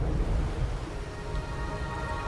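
Steady rain falls in a video game, a dense continuous hiss with heavy low rumble throughout, loud and even with no voices.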